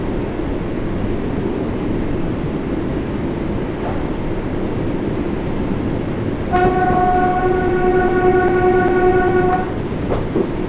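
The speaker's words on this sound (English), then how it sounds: "The European train horn, that's what I'm trying to say." A Class 484 train in Train Sim World 2 sounds its European-style horn, a bright multi-tone blast lasting about three seconds over a steady, loud rolling rumble of the train.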